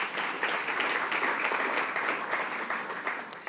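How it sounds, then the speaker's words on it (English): Audience applause for a Minister at a New Zealand conference session, dense steady clapping from a full room, sustained and even for a few seconds. "A round of applause for the Minister."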